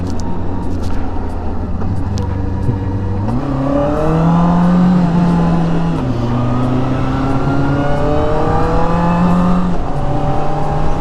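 A Benda LFS 700 motorcycle engine revs and accelerates through several gear changes on a test ride, rising and falling in pitch, loud and close with wind noise over it.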